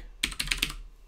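Quick burst of typing on a computer keyboard, about four or five clustered key clicks in just under a second, close and fairly quiet with no talk.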